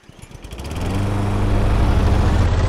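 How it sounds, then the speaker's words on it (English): A boat motor in the game Stranded Deep starts up and settles into a loud, steady droning hum with a low buzzing rumble, running continuously with no talk. "There we go, boat motor."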